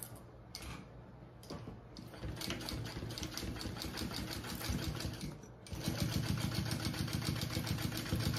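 A sewing machine bastes a double layer of webbing onto a waist pack, a rapid mechanical stitching whir that stops and restarts, then runs louder and faster near the end.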